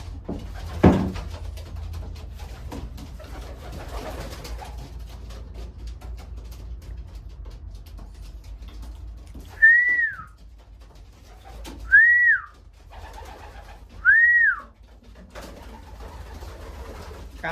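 Three short cooing calls from racing pigeons in a loft, spaced about two seconds apart and fairly close, after a stretch of quiet rustling and a faint thump near the start.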